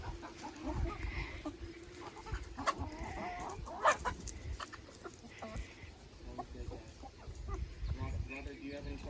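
Chickens cluck and murmur around a backyard while someone hands out treats, with scattered close calls and a louder squawk midway, and people talk now and then among the birds.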